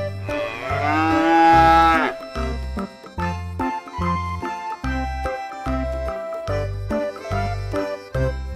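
A black calf gives one loud, drawn-out moo, then a steady bouncy music beat carries on after it.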